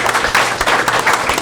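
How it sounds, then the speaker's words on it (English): A council meeting audience claps for a high school sports team, a brief, fairly loud stretch of dense, uneven handclaps filling the chamber. "Come on now, clap it up."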